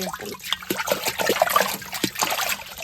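Water trickles and splashes steadily, as if running from a tap while something is rinsed, with faint irregular dribbles throughout.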